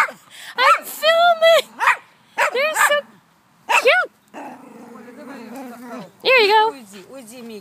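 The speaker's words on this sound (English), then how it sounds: "And that's Mickey barking at the turtle" A dog barks repeatedly up close, sharp high-pitched yips and barks in uneven bursts with brief whimpering between them.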